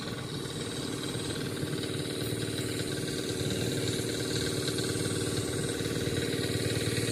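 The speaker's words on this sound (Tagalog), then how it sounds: "Tayo ay nagpapatakbo ng makina natin" The engine of a water pump at a fish pond runs steadily at idle, a continuous close, throbbing mechanical drone with a constant even rhythm and no talk.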